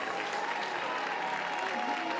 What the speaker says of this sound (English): a nice cheer from Vol Nation for this guy, Rhys Chapman